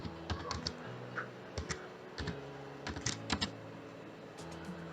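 Computer keyboard typing in WordPad: quick bursts of key clicks with short pauses, close and moderately quiet over a steady low hum.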